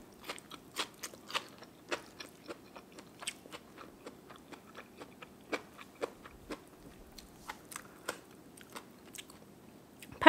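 Someone eats bamboo shoots at close range, with irregular crisp bites and crunchy chewing repeating over several seconds in a quiet room with no talk.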